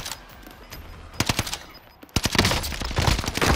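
Rapid automatic gunfire in a video game: several quick bursts of close, loud shots, a short lull, then a longer sustained spray of fire.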